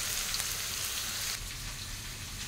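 Potatoes fry in a pan with cumin, sending up a steady crackling sizzle like rain, close and continuous, a touch quieter in the second half.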